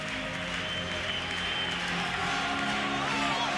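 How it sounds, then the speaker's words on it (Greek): Steady applause from a large crowd fills a swimming victory ceremony in Eindhoven, honouring Greece, with dense continuous clapping and faint cheering held at an even level throughout. "Χειροκροτήματα λοιπόν για την Ελλάδα"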